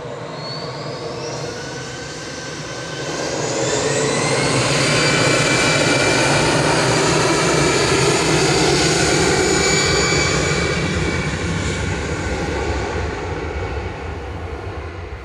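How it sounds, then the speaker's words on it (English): An EasyJet airliner departing Manchester Airport for Amsterdam, its jet roar swelling from a distance to a loud, broad sustained rumble and holding steady with whining engine tones, then easing slightly near the end; no voices. "That's the EasyJet to Amsterdam."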